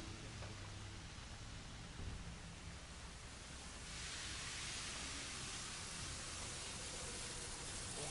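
Steady rain falls at an outdoor concert in Sendai, a soft continuous hiss of drops on surfaces that thickens slightly partway through, with no music or voices audible.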